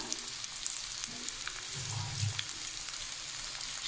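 Spices, including ginger paste, chilli and mustard, sizzle steadily in hot oil in a frying pan while chingri malaikari, a Bengali prawn curry, is cooked. The crackle stays continuous and close, swelling briefly midway, with no talking.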